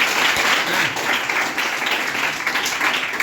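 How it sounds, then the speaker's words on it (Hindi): Students in a middle school classroom clap together, a short burst of brisk, irregular applause heard nearby and filling the room. "ताली मारो उसमें।"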